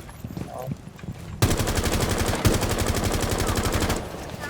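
Rapid automatic gunfire rattles in a loud, steady burst lasting a few seconds in the Rainbow Six Siege video game, preceded by a brief voice and quieter game sounds.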